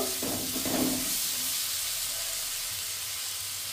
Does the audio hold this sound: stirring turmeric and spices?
yes